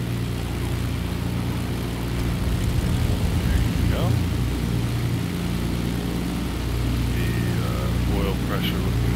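Britten-Norman Islander twin-engine propeller plane in Microsoft Flight Simulator, its engine droning loud and steady at a constant pitch throughout, with brief faint chirps over the hum.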